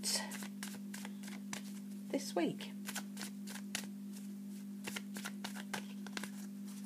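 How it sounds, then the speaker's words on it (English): A black and white Faulkner tarot deck is shuffled by hand in a run of soft, rapid riffling and flicking card sounds, with a person talking over it. "Let's have a bit of a shuffle and see what we've got"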